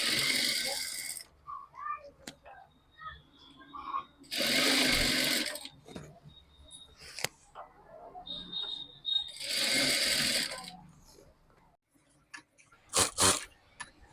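A sewing machine stitches cord piping onto blouse fabric in several loud whirring bursts of rapid needle clatter, separated by pauses where someone speaks quietly and the fabric is handled.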